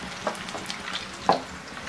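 Potato and spinach pakoras bubble as they deep-fry in hot oil, giving a soft, steady crackle with a couple of brief louder pops, close by and alone.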